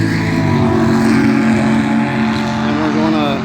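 A 1980 Trans Am drag car's engine on a nitrous shot, roaring loud and steady up close with a dense rumbling drone that holds for several seconds.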